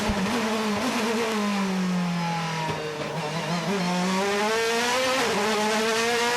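A Mercedes DTM race car at full throttle through the Norisring street circuit in Nuremberg, its loud engine note sweeping up and down through gear changes and braking, a continuous close roar with no talk.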